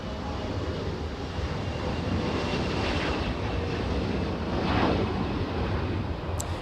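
An Asiana A380 airliner on final approach at Los Angeles airport, heard as a steady, broad roar mixed with wind rumble that swells slightly near the end, with no voices.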